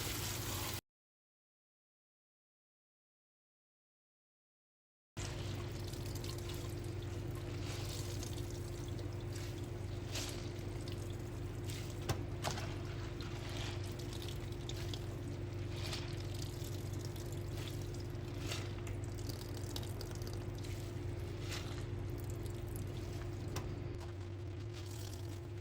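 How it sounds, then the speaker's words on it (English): Cold tap water runs over chopped cabbage in a strainer at a kitchen sink, a steady close splashing trickle that continues unbroken after a few seconds of silence near the start. "dump it into a strainer. And under cold water, we're gonna rinse this off really well."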